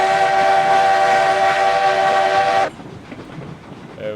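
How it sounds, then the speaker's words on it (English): Locomotives haul a heavy load uphill in the game RailRoads Online: a loud, steady, tonal whistle or horn blares over the engine rumble for about two and a half seconds, then cuts off abruptly, leaving low mechanical noise. "she's going to start pulling the rest of the train up the hill."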